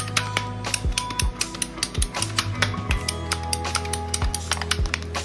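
Rough fourths being cut from a 19-inch piece of pipe for a collapsible armor stand, a string of sharp clicking snaps and ratcheting crunches repeating every half second or so over a steady low hum, close and fairly loud.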